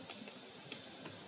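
Faint clicks of keys on a computer keyboard as a short chatbot message is typed, a few separate quiet taps in an irregular rhythm.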